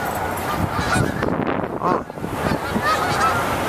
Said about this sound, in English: Ducks are flying somewhere.